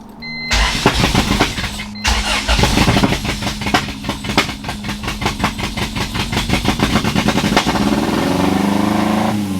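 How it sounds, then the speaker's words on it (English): A Civic with a B-series engine swap cranks and catches, then revs in a fast, uneven pulsing rhythm with misfiring, loud and close, before settling into a rougher idle. "So it started sounding like it was misfiring again, and then it just started revving out."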